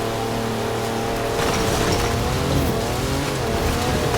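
A Mercedes wagon with all-wheel drive and air suspension drives off-road over lumps and burial mounds in Forza Horizon 4, its engine drone steady and loud throughout, with rough tyre and terrain noise building midway.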